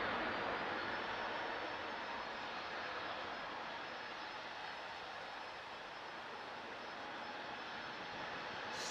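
An airliner in a special livery passes at Manchester Airport, a faint, steady jet engine roar with broad rushing noise that holds evenly for several seconds, distant and alone.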